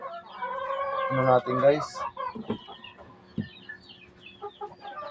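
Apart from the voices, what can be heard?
chickens clucking in their coop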